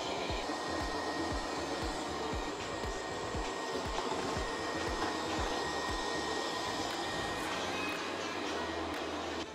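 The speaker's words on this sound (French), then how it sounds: "en même temps que l'aspirateur fait son travail" A robot vacuum cleaner runs steadily across the floor, giving a continuous whirring motor hum with rapid low tapping and brushing pulses throughout, fairly close and with no talking.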